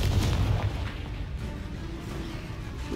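A Confringo spell explosion in the video game Hogwarts Legacy lands as a heavy, booming blast at the start, then decays into a low rumbling tail.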